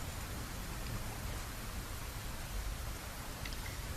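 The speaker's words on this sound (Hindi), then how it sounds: "3 चीज़ों का बघार लगा रही हूँ" Spices tempered in hot oil for a spicy red masoor lentil dal give off a steady, quiet broadband sizzle, with no pauses and no talking.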